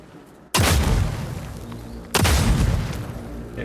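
Two heavy blunderbuss blasts boom out in the Mortal Shell 2 demo, each a sudden loud burst with a decaying roar, spaced about a second and a half apart.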